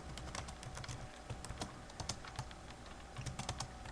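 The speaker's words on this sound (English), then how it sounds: "So let's just type up something simple." Rapid typing on a computer keyboard while composing an email, with dense, uneven clicking of keys throughout, close and steady in a quiet room with no talking.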